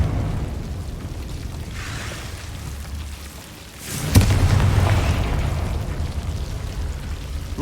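A Confringo fire-blast spell goes off in Hogwarts Legacy: a sudden loud burst bursts out of steady ambient game noise and is followed by a sustained rumbling roar.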